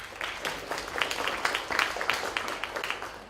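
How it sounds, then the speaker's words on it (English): Audience applause at a business forum panel on performance management, welcoming the moderator: dense, steady clapping from a crowd of moderate size, lasting a few seconds without a break. "I hope the clapping was for the panel too"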